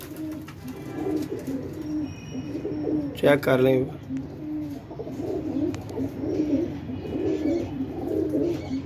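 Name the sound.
pigeons cooing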